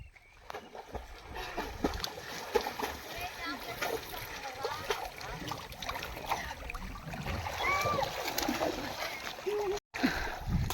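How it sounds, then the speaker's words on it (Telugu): Children splashing while swimming on a fishing outing, irregular splashes and water sloshing close by, heard under steady talk and children's voices. "చేపల వేటకు వచ్చి పిల్లలు అయితే ఈత కొడుతున్నారు"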